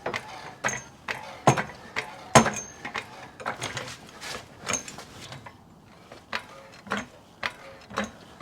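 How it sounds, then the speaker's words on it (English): A floor jack is pumped to raise the transmission of a first-generation 1995–2004 Toyota Tacoma, giving a close series of rhythmic mechanical clicks and ratcheting strokes with short pauses, and no talking. "now we're going to get our floor jack and jack up the transmission"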